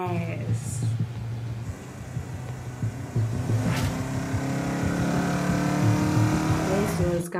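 Cartoon race cars speed through a race, a continuous revving engine drone with tire squeals and whooshing passes, loud and busy throughout.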